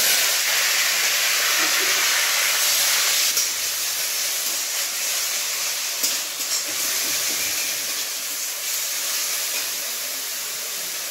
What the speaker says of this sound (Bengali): তেলে আমি ঝাড়িয়ে রাখা পেঁপে দিয়ে দিচ্ছি।